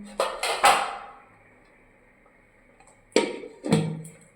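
A lid set over a bowl of food, with a cluster of clattering metal and ceramic knocks, a quiet gap, then two more knocks close by. No voices are heard.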